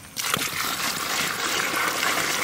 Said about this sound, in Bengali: পরিমাণ মতন জল দাও।